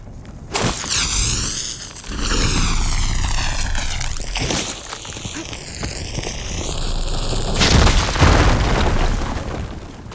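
A fire gleam crystal explodes in Horizon Forbidden West, a loud booming blast followed by sweeping whooshing tones and rumbling debris that sustain for several seconds, with a second surge of roaring noise near the end.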